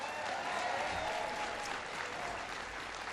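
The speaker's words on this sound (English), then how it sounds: "Give Duncan a big round of applause for the great introduction." Steady applause from an audience at a presidential speech on infrastructure, a dense wash of clapping that holds at an even level throughout.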